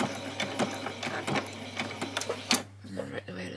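A sewing machine back stitching along a doll's dress, giving a run of quick mechanical needle clatter with short bursts that stops near the end, close and moderately loud under a steady low hum.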